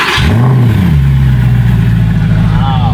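A loud AMG car engine revs up close, pitch climbing then settling into a strong steady drone from the exhaust, filling the whole moment.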